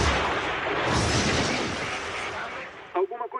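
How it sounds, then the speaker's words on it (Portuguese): A loud, broad explosive blast on the cockpit voice recorder of Japan Air Lines flight 123 roars up and slowly decays, and a voice cuts in briefly at the end. "Nós conseguimos ouvir uma explosão no gravador de voz."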